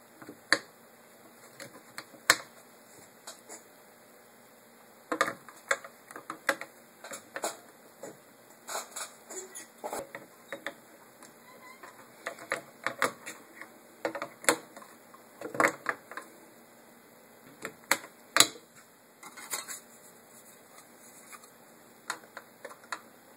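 Batteries being fitted into an Olympus IN-524F Pencorder microcassette recorder, heard as scattered sharp plastic clicks, taps and snaps at irregular intervals, close and quiet, with no voices.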